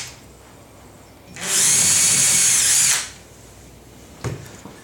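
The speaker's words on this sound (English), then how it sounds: "now with our drill driver on our marked positions, we're now going to create a little incision into the woodwork." A drill driver whirs for about a second and a half as it bores into a wooden interior door, then stops; a couple of light knocks follow.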